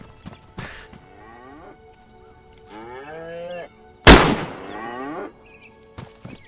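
In the video game DayZ, a cow moos in long, drawn-out calls, broken by a single loud, sharp gunshot, then moos again before a fainter second shot.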